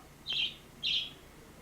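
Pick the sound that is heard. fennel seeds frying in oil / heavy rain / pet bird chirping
pet bird chirping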